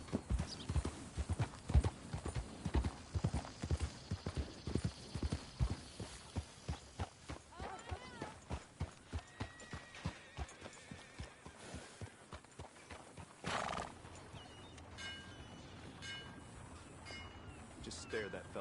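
In the Western video game Red Dead Redemption 2, a horse's hooves clip-clop in a close, steady walking rhythm that slows and stops, followed by a brief snort or whinny while a voice speaks.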